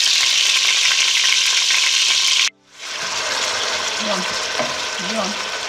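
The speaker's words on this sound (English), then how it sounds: "so now we put all the meat in there. You can see it already cooking." Meat frying in a stew pot gives a loud, steady sizzle that cuts out briefly, then carries on a bit quieter, with faint stirring noises.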